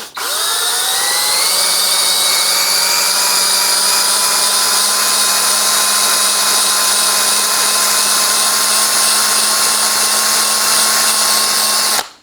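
Honing tool spinning in the lower control arm bushing bore of a BMW E46/Z4, a steady, loud, high whine held for about ten seconds after a rising start, then stopping abruptly.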